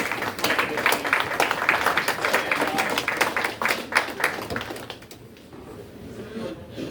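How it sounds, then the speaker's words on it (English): Conference audience at a maritime security event clapping in a loose, rhythmic burst of individual claps that fades out after about five seconds, leaving a quiet room. "So a great round of applause."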